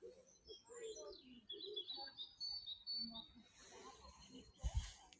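Birds chirp and tweet in a park in spring, with scattered faint calls over low murmuring and a soft thump near the end.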